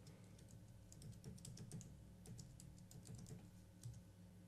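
Rapid typing on a computer keyboard while a section name is entered in OneNote for Windows 10: steady, close clicking keystrokes in quick bursts, quiet overall and with no talking.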